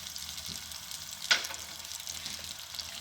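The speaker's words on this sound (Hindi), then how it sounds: "अब इसमें मैंने जो पोटैटो है बॉयल, ये हाफ़ के जी है, इसको मैं भूनूंगी" Boiled baby potatoes frying in a pan, a steady soft sizzle throughout with one brief louder stir or clink partway through, close and otherwise even.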